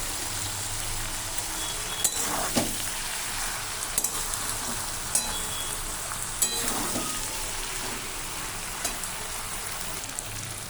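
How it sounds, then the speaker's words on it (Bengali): Spinach stalk greens frying in fish oil while being stirred, a steady close sizzle with scattered sharp clicks and scrapes from the stirring, no talking. "এবার এটাকে ভালো করে মিক্স করে নেব"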